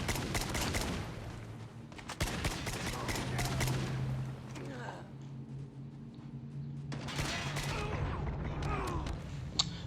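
SKS rifle fire in a shooting video game, with sharp gunshot bursts in quick clusters, loud and close, over a low steady hum, with bursts of speech around the shots.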